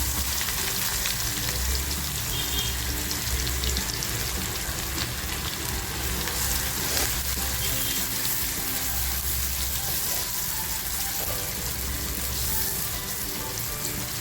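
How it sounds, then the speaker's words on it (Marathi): Chopped onion drops into hot oil already crackling with curry leaves for paneer bhurji, a loud, steady, close sizzle that fills the whole stretch without a break. "तेल खूप छान तापले आता जो कांदा कापून घेतला आहे तो कांदा टाकते"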